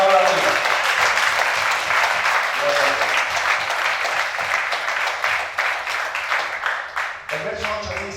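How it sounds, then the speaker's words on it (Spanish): A church congregation claps together in sustained, dense applause. It stays loud and steady for about eight seconds, with a brief dip near the end. "Así aplaude a Dios."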